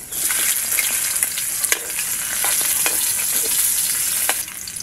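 Garlic and onion frying in a pan for a Filipino home-cooked dish, a close, steady, bright sizzle with crackling pops and a few stirring clicks, with no one talking.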